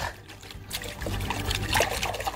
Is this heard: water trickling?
yes